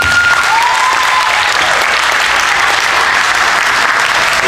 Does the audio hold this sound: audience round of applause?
yes